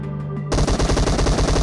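Automatic gunfire in the mobile battle-royale game PUBG Mobile opens abruptly after a brief lull and rattles in a rapid, loud, continuous stream of close shots.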